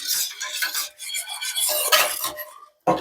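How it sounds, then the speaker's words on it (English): Stirring cream of broccoli soup with milk in a pot, a spoon scraping and clinking against the metal in a steady, close run of strokes, then a brief pause and one final knock. "I'm just going to stir the soup again."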